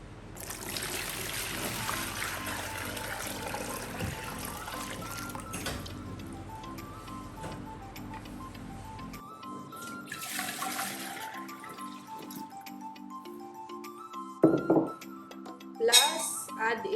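Old water poured out of pothos plant containers, trickling and splashing with glassy clinks of the containers, ending in a few louder knocks.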